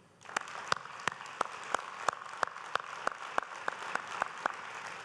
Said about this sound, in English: Please join me to give another warm applause to all of the members of the parliament